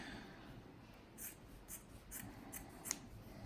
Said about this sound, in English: And we're going to probably cut these in half again.